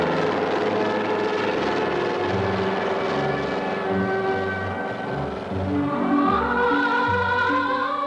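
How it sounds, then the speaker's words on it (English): A medical evacuation helicopter in North Korea drones loudly and continuously with a steady rotor rumble, overlaid with sustained musical tones. "For this patient, a helicopter and medical doctors were sent by the dear leader, Comrade Kim Jong-il."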